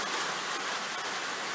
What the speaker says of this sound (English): boy, have we had some rain